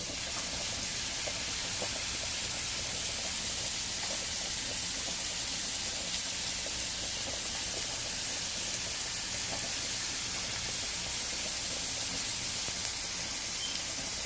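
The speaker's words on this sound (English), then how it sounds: "We're going to let these saute until the onions look nice" Onions sautéing in a pan give a steady, dense sizzle and hiss that runs unbroken throughout, close and moderately loud with no talk.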